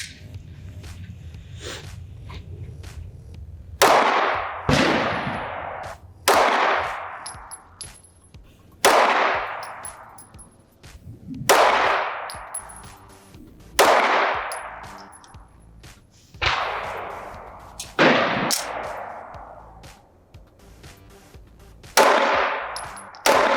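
A BRG9 gun is fired outdoors in a slow, repeated series of sharp, loud reports, each one ringing and decaying before the next, roughly nine shots spaced a few seconds apart.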